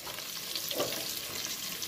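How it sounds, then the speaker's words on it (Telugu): Eggs frying in oil with turmeric, salt and chili powder for egg biryani, a steady soft sizzle with faint crackle running throughout at low level, no voices. "కారం వేసుకొని నూనెలో వేసుకుని వేయించుకోవాలి."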